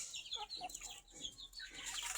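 Desi hens cluck in short, repeated bursts while being fed leftover rice mixed with bran on a rooftop in winter, close by and fairly faint, with no talking.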